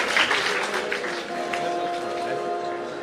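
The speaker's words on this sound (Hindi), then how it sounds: "जबरदस्त ताली सभी मेधावी मित्रों के लिए होना चाहिए।" An award-ceremony audience applauds meritorious students: a brief burst of dense clapping that fades under a voice and other tones.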